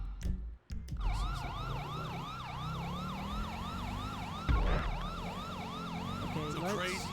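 A police car siren in GTA 5 wails in a steady, rapidly repeating up-and-down yelp, loud and close, with a low engine rumble beneath it and a brief break near the start.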